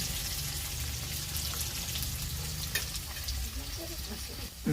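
Curry leaves sizzling in hot oil in a pan over a village wood-fired clay stove, a steady close crackling hiss with occasional pops throughout.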